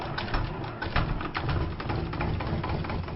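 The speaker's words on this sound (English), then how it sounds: "A mill to grind maize means they can earn a living." Maize grinding mill running in a Chibombo village in Zambia, a continuous low rumbling engine drone with gritty mechanical churning and faint bird calls in the background, no voices.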